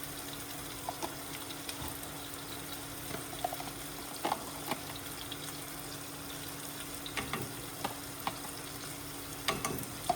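Food seasoned with salt, black pepper, red pepper and curry powder is toasted in a pan. It gives off a steady, gentle sizzle, with scattered clicks and scrapes of stirring.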